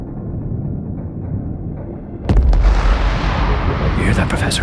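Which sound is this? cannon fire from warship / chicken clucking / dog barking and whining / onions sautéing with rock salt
cannon fire from warship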